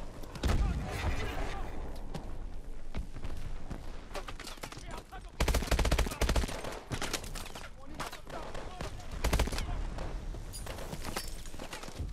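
Gunfire in the video game Call of Duty: Advanced Warfare: repeated bursts of shots and heavier blasts over a busy battle backdrop, with louder peaks around the start, middle and near the end.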